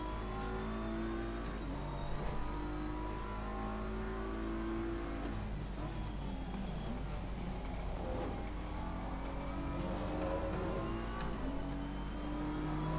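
Race car engine in a racing video game, a Honda on the track, revving and accelerating steadily out of a corner, loud and continuous with rising and falling pitch over a constant low drone, no talk.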